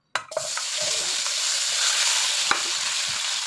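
Onions hit hot oil in a pan for Chinese-style adobo, a sharp burst of sizzling that settles into a steady, close, bright crackle with a few light clinks.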